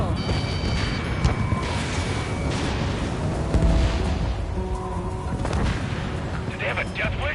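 Missiles launching and exploding in the Ace Combat 7 video game, booms and crashes amid a roaring cockpit din, with radio voices and tonal warning beeps over the top.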